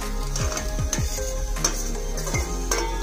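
Fresh grated coconut roasting in a pan for a Malvani-style chickpea curry, with repeated scraping strokes of a spatula stirring it over a steady soft sizzle, close and clear, no talking.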